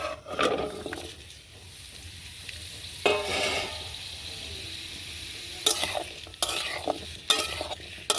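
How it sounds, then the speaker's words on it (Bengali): Fresh-cut papaya frying in hot oil, a soft continuous sizzle with irregular clatters and scrapes of stirring that grow busier toward the end, close and fairly quiet with no speech. "তেল গরম হয়ে গেছে, কেটে ধুয়ে রাখা পেঁপে ঢেলে দেবো। এটা ভালো করে ভেজে নেব"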